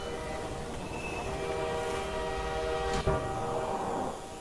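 A video game train rumbles past and sounds a sustained horn, its tone holding for several seconds before a brief sharp knock, the rolling noise staying loud throughout.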